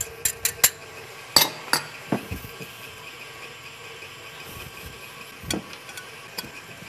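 A utensil clinks and scrapes against a bowl while chocolate macaron ingredients with cocoa powder are stirred together, giving sharp irregular taps in a quick cluster at first, then sparser knocks with quiet gaps.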